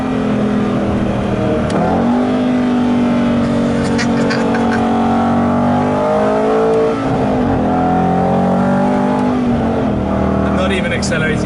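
An Aston Martin GT8 engine accelerates in wet weather without going full throttle, its loud, rising roar filling the whole stretch and swelling and easing in waves, while a voice talks over it.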